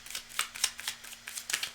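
Tarot cards shuffled by hand, a series of crisp, rhythmic riffling bursts about every quarter second, close and quiet, with no voices.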